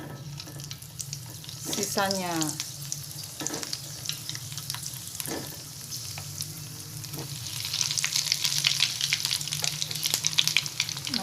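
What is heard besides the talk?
frying kue ketawa (onde-onde ketawa) dough balls in oil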